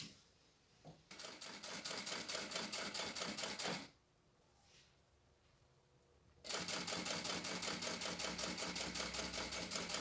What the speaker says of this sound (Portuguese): a segunda eu vou fazer já costurando o zíper